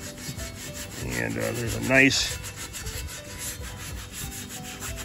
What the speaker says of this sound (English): gonna rub it, and you'll see that the dust or whatever comes off pretty good